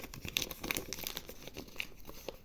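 Scissors snip through a small paper bag, giving a run of short crinkly cuts and rustles, close and fairly quiet, with no talking.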